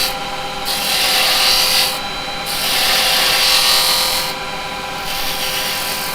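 A carbide chisel trims the rim of a spinning wooden piece on a lathe, giving a close, steady rasping scrape in long passes broken by a few brief pauses, with no voices.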